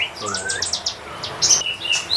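An Asian pied starling (jalak suren) calls outdoors with a quick run of bright chirps, whistles and rising notes, close and clear over a quiet background.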